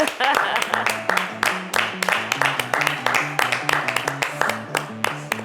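An audience at a wrestling television program claps to welcome the arriving champion. The clapping comes as a steady rhythmic patter under a tuned musical beat, close and fairly loud throughout.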